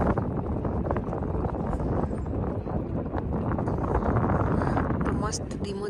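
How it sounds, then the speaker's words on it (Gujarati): Gentle wind blows by the water at a lakeside park in Toronto, heard as a steady rough rumble of wind on the microphone with a faint wash of water underneath. A voice talks over it. "તો મસ્ત ધીમો ધીમો પવન છે અને પાણી."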